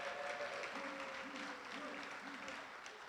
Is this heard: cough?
no